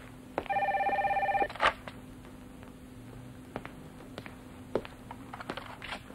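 A telephone rings with one electronic trill of about a second, followed by a clatter, then quiet room tone with scattered soft clicks and taps.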